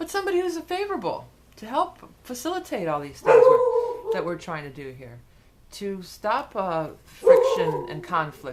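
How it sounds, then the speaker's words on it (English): A dog barking indoors in a couple of short, sharp bursts that cut through steady talking, with the voice dominant for most of the stretch. "Sorry about the dog if you can hear him."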